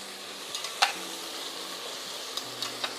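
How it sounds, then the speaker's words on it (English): Celery and vegetables stirred in a pot for Louisiana-style red beans and rice, a quiet low sizzle with a few light clinks and scrapes of a spoon, soft and close. "Stir your celery around."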